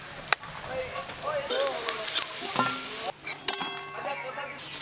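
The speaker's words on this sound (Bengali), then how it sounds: "এই যে মাছের ডিম ভাজা হয়ে গেল" Rui fish roe frying in a pan sizzles steadily, broken by several sharp clatters of a spatula or utensil, with people talking over the cooking.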